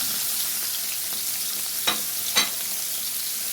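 Chicken liver and gizzards frying in a pan of butter and oil, a steady close sizzle with two small pops or stirring clicks near the end.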